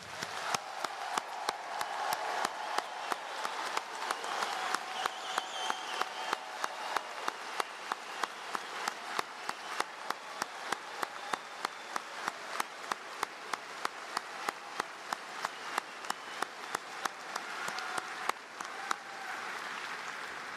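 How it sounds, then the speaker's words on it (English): Crowd at a university commencement ceremony applauding its new graduates: sustained, fairly distant clapping from a large audience with a regular rhythmic beat running through it, fading near the end. "Audience, please join me with a resounding applause for the newest Auburn graduates."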